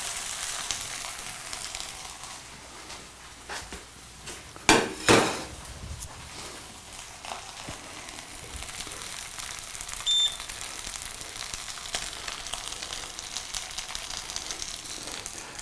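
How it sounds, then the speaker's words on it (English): A frozen pre-cooked burger sizzles on a Star Pro-Max sandwich grill under the lowered top, a steady faint hiss broken midway by a couple of quick metallic clunks. "we're going to set the pre-cooked burger, which was frozen, on, and we will bring the top down"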